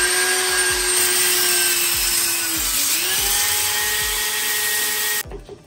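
A power tool fitted with an abrasive sanding disc adapter strips old sealant from a bathtub edge, a loud high-pitched whine with a low scraping grind underneath, dipping briefly in pitch under load, then cutting off abruptly.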